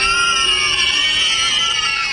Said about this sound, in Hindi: वो आत्माएं बहुत बुरी तरीके से चीखने लगती है और रोने लगती है